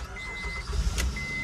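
Honda Pilot engine with a stumbling idle and random misfire cranking and catching inside the vehicle, a short burst of low starter churn and rumble settling into a running engine, no talking.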